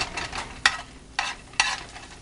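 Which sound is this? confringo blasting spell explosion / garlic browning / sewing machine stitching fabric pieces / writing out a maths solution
garlic browning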